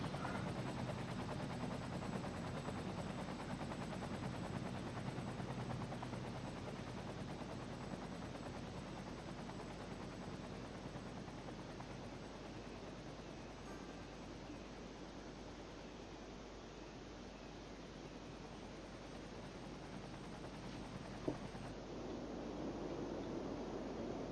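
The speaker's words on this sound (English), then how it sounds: "we're just going to see the last bit of a forest fire put out by these extra helicopters" A steady, dense rotor drone of video game helicopters putting out a forest fire fills the scene continuously, broad and rumbling, with a faint sharp crack near the end and no voices.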